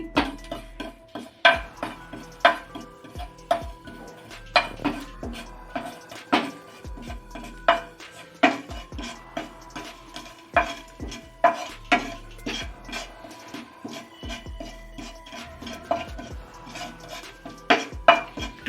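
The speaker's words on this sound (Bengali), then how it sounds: "আমি একটু এক চামচ গোটা জিরে আর কয়েকটা হাফ চামচ আমি গোলমরিচ একটু রোস্ট করে নিচ্ছি" Whole cumin seeds and black pepper dry-roast in a pan, with a spatula scraping and clinking against the metal in irregular, close, fairly sharp knocks and rattles throughout.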